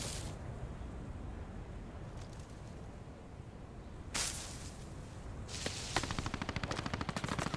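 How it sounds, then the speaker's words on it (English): Faint rapid gunfire bursts in the video game Post Scriptum, a distant machine gun rattling over a constant noisy background rumble. "Now you can hear the machine gun firing back."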